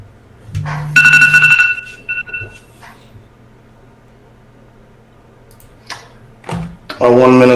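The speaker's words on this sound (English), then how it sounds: "A 1 minute alarm." A one-minute alarm sounding before the stock market open, heard as a loud ringing tone burst, with a second burst at the end and brief speech between them.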